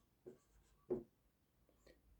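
Soft, sparse scratches of a pen or pencil writing numbers by hand, a few short strokes close and faint against near silence.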